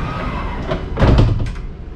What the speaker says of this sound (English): Which are electric rather than air, Ventura doors. Very smooth in operation.